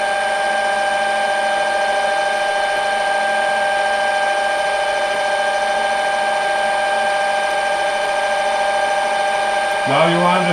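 A drill bit turning on a metal lathe, fed by the cross-slide, gives a steady, loud mechanical whine with strong tonal overtones that holds unbroken for about ten seconds before a brief shift at the end.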